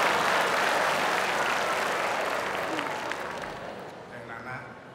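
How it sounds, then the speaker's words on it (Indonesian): A studio audience applauds gubernatorial candidate Pak Sudrajat on a stand-up comedy TV show, the loud crowd clapping gradually thinning and fading out toward the end. "kita kasih tepuk tangan Pak Sudrajat."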